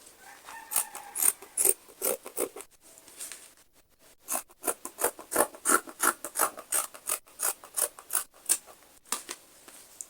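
Scissors snip through fabric for a turban cap in a steady run of short, crisp rasping cuts, close and moderately loud, with a brief pause partway through and no talking.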